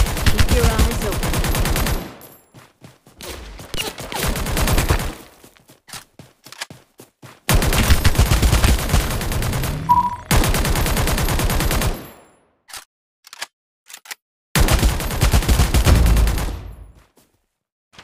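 Bursts of automatic gunfire in the mobile battle royale game Omega Legends, loud and close, coming in several long volleys separated by short quiet gaps and a brief beep.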